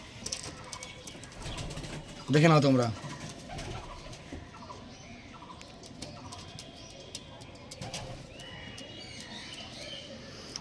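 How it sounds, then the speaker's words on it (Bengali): Pigeons let loose from a Kalshira and Fulshira tournament loft in Bangladesh, with a few soft coos and brief wing flutters over steady outdoor background noise, and someone speaking loudly once near the start. "চলো পায়রাগুলো ছেড়ে দেখি তোমাদেরকে"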